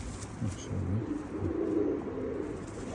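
Pigeons cooing at a live pigeon auction, soft rolling coos repeating close by over a low background murmur, with no clear talk.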